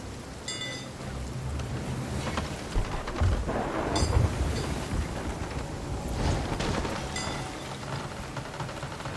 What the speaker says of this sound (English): The lightning hit it.